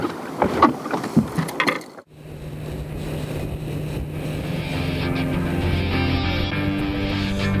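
An outboard motor starts up on a fishing boat and carries it across open water toward a current line beyond an exposed rock, settling into a steady, close, droning hum that holds for several seconds after a few brief bumps.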